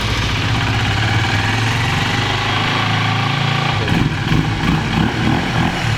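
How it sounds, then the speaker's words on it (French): A Honda CBR motorcycle with its stock exhaust settles into a loud, steady idle just after being started for the first time in two months, rumbling continuously close by with no talk over it. "2 mois que j'ai pas démarré la moto"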